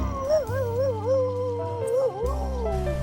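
A dog in a video game gives a long, wavering howl over a steady synthesized music bed, with sustained tones and no speech.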